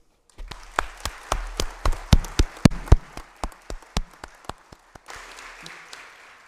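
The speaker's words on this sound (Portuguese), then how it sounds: "Eu aqui peço a todos que comigo, é, mais uma vez, aplaudamos a nossa homenageada." A small audience claps at a solemn award session in a legislative hall, with a burst of distinct, fairly close handclaps that thin out and fade over a few seconds.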